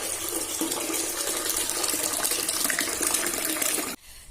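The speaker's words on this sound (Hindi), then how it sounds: "ये देखिए बोरिंग से डायरेक्ट आता है पानी, तो मैं यहाँ चावल का पानी निकाल रही हूँ।" Water gushes steadily from a tap fed directly by a borewell while rice water is drained, a loud continuous splashing rush that cuts off abruptly near the end.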